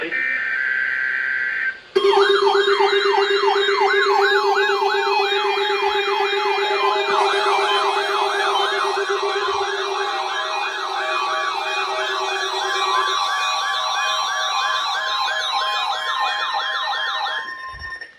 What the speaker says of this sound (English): The preceding signal was a test of the NOAA Weather Radio Public Warning System.